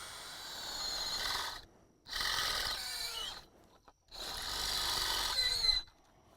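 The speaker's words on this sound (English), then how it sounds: "we'll drill some holes" Three bursts of a power drill boring holes into pipe outdoors, each a second or two long with short pauses between, close and loud, grinding and rasping as it bores.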